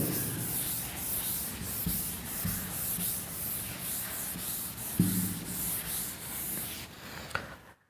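Rubbing out writing on a board in a classroom: brisk repeated swishing strokes, close and fairly loud, in an uneven rhythm with a couple of sharper knocks, and no talking.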